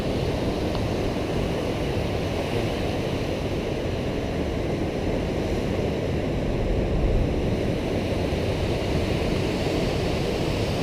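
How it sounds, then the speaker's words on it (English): Pacific Ocean surf on the Washington coast among high dunes, a continuous, broad, fairly loud roar of waves with some wind, unbroken and without voices. "Really neat to hear that water."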